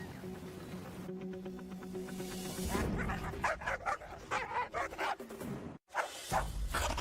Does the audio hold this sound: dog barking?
yes